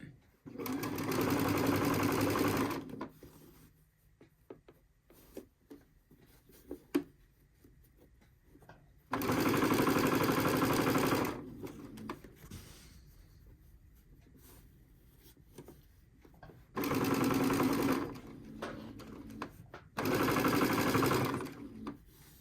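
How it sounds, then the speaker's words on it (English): Sewing machine stitching along the edges of a dish towel in bursts of loud, rapid mechanical whirring, separated by quieter stretches where a person talks. "stitch it down over that first stitching"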